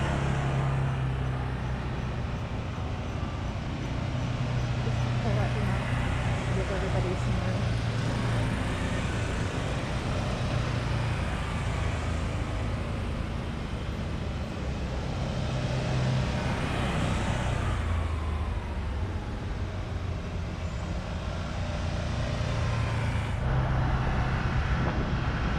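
A group of Can-Am Maverick side-by-sides rolls through the town of Wallace, Idaho: a steady, fairly loud engine drone and road rumble that holds for the whole stretch, swelling slightly as vehicles pass, with no talking.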